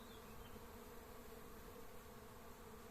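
Young honeybees on an orientation flight hum around the hive, a steady, even swarm drone that is fairly faint and continuous, with no talking.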